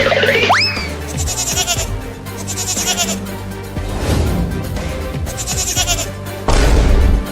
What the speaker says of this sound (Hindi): अरे वो बकरी का बच्चा मेरे खेत में आ रहा है मेरा लालमी खाने, अभी भगाता हूँ उसे।